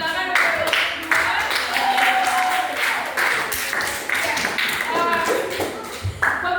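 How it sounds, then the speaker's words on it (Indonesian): A classroom group claps for a presenting group of students, brisk scattered applause from a small crowd that keeps going steadily for several seconds, with a few voices mixed in. "Tepuk tangan untuk kelompok 2."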